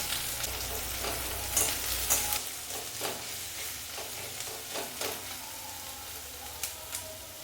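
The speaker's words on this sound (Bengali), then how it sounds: "এবারে দিয়ে দেবো কিছুটা কুচনো পেঁয়াজ" Chopped onion hitting hot oil tempered with cardamom, cloves, cinnamon, bay leaf and cumin for green jackfruit kalia, a soft steady sizzle with repeated spoon stirs and taps, close but quiet.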